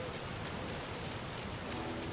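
Steady rain falls on the shore of Cauldron Lake in the game Alan Wake 2, a constant hissing patter of drops on a surface, even and unbroken, with no voices over it.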